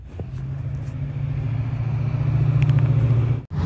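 A Chevrolet Impala at a hot rod run in Pigeon Forge, Tennessee, rumbles steadily nearby, its low engine drone building slightly in loudness over a few seconds before cutting off abruptly at the end.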